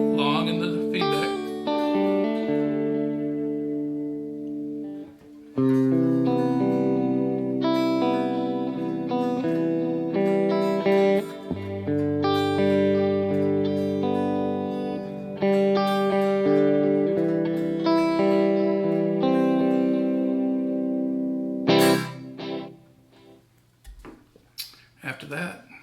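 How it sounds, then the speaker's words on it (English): Electric guitar through an AAR AC30 TB stereo amp with Mod Chorus Echo delay set to quarter notes, sustained chords and ringing notes with shimmering repeats, loud and continuous before fading out at the end. "First delay is the Mod Chorus Echo, one of my favorites. Set to quarter notes."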